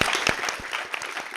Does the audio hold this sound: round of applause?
yes